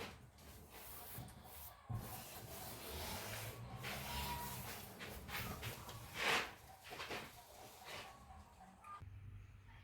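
A tool scrapes protruding plastic off the tape seam where the top and bottom halves of a plastic biotank meet, giving quiet, irregular rubbing and scraping strokes. One louder scrape stands out near the end.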